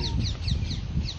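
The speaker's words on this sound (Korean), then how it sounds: "지금 바람하고 이 다양한 새들" Repeated high chirping bird calls at a steady rhythm by a lake in Sri Lanka, over a low rumbling wind-like background, fairly close and moderately loud.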